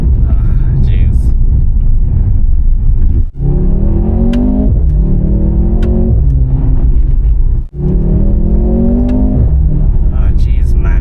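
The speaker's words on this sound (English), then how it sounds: "The cracks and pops you get from the exhaust." Mercedes-AMG C43 pulls hard through the gears, its engine note climbing in loud, close sweeps broken by two brief shift gaps, with sharp exhaust cracks and pops punctuating the revs.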